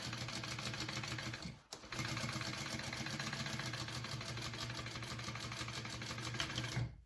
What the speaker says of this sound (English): I'm just going to do a second row of stitching right next to that just to give my stitches a little extra added strength.